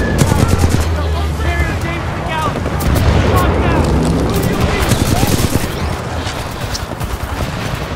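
Rapid Flatline rifle gunfire in Titanfall 2, dense bursts and explosive booms layered with battle noise throughout, loud and busy with little pause.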